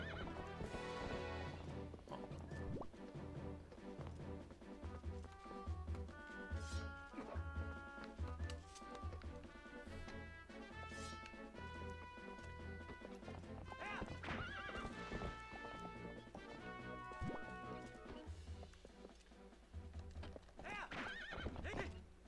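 Horse hooves clip-clop at a gallop with repeated neighs in Twilight Princess HD, sounding over a dense bed of game music throughout.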